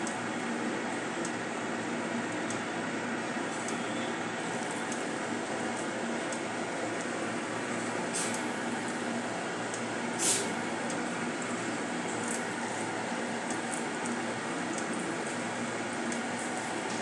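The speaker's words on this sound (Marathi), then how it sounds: "तर अशा प्रकारे आपण भजी सोडून घेऊया." Spinach bhaji fritters fry in moderately hot oil, giving a steady, even hiss and sizzle that runs unbroken throughout at a moderate level.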